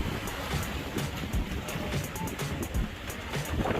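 Steady surf rolling onto Helshire Beach in Jamaica, a continuous broad wash of breaking waves with occasional heavier thumps, fairly loud and close, no one talking.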